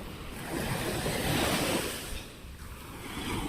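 A swollen, dangerously high river rushes past in a loud surging wash, swelling and easing with some wind buffeting the microphone.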